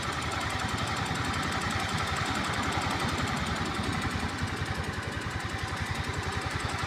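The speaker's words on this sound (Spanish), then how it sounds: "¿De dónde creen que venga ese ruido? Es una motoneta." A motor scooter engine runs with a strange noise, a fast, steady, rhythmic knocking chatter that stays loud and close throughout, with no one talking.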